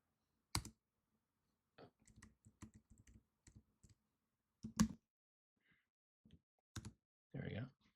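An address is typed on a computer keyboard in scattered bursts of close, crisp key clicks over near-silence, with a single louder tap and a soft breathy sigh near the end.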